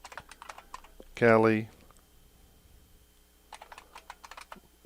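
Light clicking on a computer keyboard as a name is typed, bursts of keystrokes at the start and again toward the end, with a short spoken word cutting in between.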